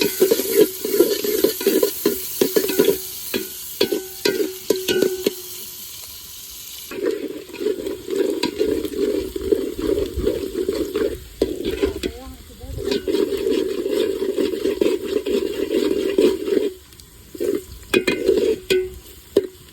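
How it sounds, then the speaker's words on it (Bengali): Onions frying in a pan for chicken biryani in a village kitchen, a steady sizzle with scraping stirs and clinks, briefly dipping near the middle, with running water and faint voices at times. "পেঁয়াজটা ভালো করে ভেজে নিই।"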